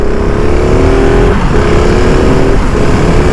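A KTM SMC R 690 motorcycle engine drones loudly and steadily while riding through a curve on a closed-off lot, with slight pitch dips as the throttle shifts, close and continuous under wind noise.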